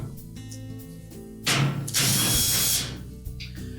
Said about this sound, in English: You simply remove all of the screws.